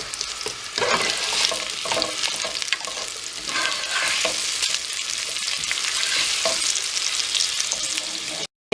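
Two chopped purple onions fry in oil in a pan, producing a loud, steady sizzle close up, with repeated stirring scrapes running through it and no voices.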